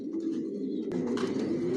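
Silver racer pigeons in a loft give soft, low, continuous cooing with several birds overlapping, steady and fairly close, with no talk.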